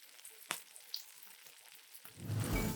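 Chickpea panisse pan-seared in oil starts to sizzle as pieces are turned, rising into a steady close crackle after a few soft clicks and taps in a quiet kitchen.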